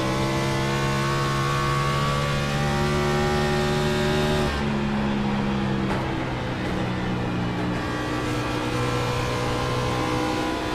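Onboard Cup Series race car engine at Dover in iRacing, a loud close harmonic drone that drops in pitch midway as the driver lifts, then holds a lower steady tone, with no talk over it.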